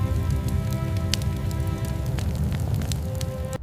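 Rain pouring onto an earthen Viking burial mound: a dense, continuous patter of drops with occasional sharper splashes over a low, steady rumble.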